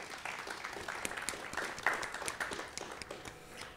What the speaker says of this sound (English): Applause, yes.